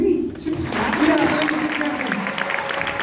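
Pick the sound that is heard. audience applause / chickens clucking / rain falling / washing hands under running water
audience applause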